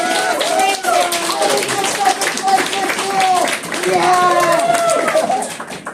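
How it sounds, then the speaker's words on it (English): Audience at a cosplay contest at a Central Alberta fan festival claps steadily for the participants, with cheering voices mixed into the dense, continuous applause throughout. "big round of applause for everyone who participated."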